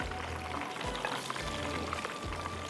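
Chicken wings fry in hot oil with a steady, close crackling sizzle, broken by a few low clunks as pieces are moved about, with no talk.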